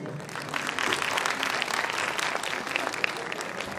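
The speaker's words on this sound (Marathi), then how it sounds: "तुमच्या टाळ्या कमी पडतायत" An audience at a municipal corporation anniversary celebration claps together in a sustained, even burst of applause, a dense wash of many hands that holds steady throughout, with no speech.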